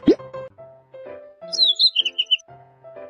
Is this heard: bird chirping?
yes